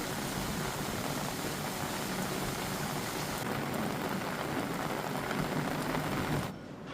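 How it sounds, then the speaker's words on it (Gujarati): Heavy rain pouring down in Junagadh, a dense steady hiss of drops on surfaces that holds evenly, then drops slightly in level near the end, with no one speaking. "ક્યાંક ધોધમાર વરસાદ વરસી રહ્યો છે"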